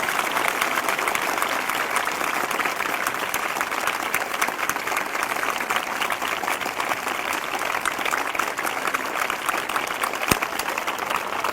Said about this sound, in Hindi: फिर से जोरदार ताली बजाकर प्रभु को धन्यवाद दें।